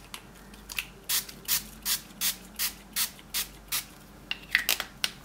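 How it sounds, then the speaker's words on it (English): A can of Gold Glimmer Spray is sprayed over paper flowers in short, even hissing bursts, about a dozen in a steady rhythm, close and fairly loud, with no talking. "So I'll just quickly spray over those flowers so to make them a bit more shiny."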